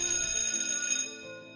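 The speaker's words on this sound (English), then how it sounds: "The bell rang." A school bell ringing in a horror visual novel game: a bright, sustained metallic ring that holds steady, then cuts off and leaves a fading tonal decay, heard alone without speech.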